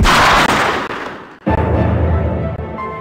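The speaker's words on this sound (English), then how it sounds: "Did you try to shoot him? Yeah, I shot him." A gunshot in the X-Files video game rings out as a loud burst followed by a fading rumble and then a second low thud, close and heavy.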